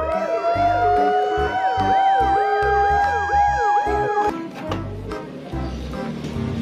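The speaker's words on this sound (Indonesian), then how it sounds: "Di sini ada mobil ambulan juga." An ambulance siren wails loud and close in a fast rising-and-falling pattern, then cuts off abruptly, followed by rhythmic thumping and clattering in the background.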